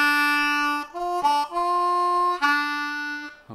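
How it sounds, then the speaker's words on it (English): A blues harmonica lick on a G harmonica starts on a held two draw, then moves to a few short bent notes before settling back onto long sustained tones. It is played alone and fairly close. "the first lick over the one chord sounds like this"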